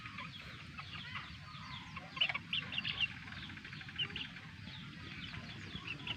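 Chickens cluck around a rooster, their father, on a backyard flock; scattered clucks and short calls come at moderate distance over a steady low outdoor hum, with no speech.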